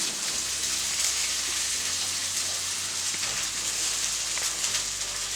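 Minced garlic and ginger fry in a pot with golden brown onions for goat meat pilau, giving a steady, even sizzle and crackle throughout with no talking.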